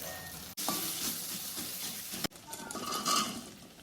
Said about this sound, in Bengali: মশলা কষা চলছে।